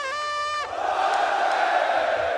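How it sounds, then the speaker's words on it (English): A large esports arena crowd at a Counter-Strike major in Paris roars and cheers loudly and continuously, with a sustained wall of voices rising after a brief harmonic tone at the start. "We may have taken a break, but the crowd certainly has not."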